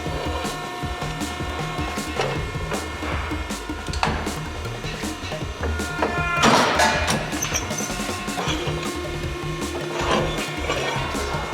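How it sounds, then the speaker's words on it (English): Scotchman ironworker plate shear cutting flat iron in a workshop, a dense metallic grinding and crunching with a brief louder burst midway, over steady machine hum. "Also built into the ironworker is a plate shear, so I can take my flat iron and I can shear it."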